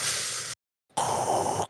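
A voice imitates a cyborg Inquisitor's mechanical breathing apparatus with two harsh, hissing breaths: a half-second exhale, a brief silence, then a longer, rougher hiss.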